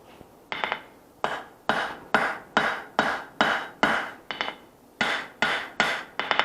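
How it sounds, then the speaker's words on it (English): Hammer forging bevels into a knife blade, a string of sharp ringing blows struck at a steady pace, each one decaying briefly before the next, close and alone. "forge in some bevels."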